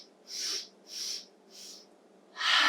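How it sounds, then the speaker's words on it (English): Four forceful nasal sniffs during a children's yoga breathing exercise, three evenly spaced short inhalations followed by a longer, louder fourth, close and clear with no talk. "let's try 5 big sniffs."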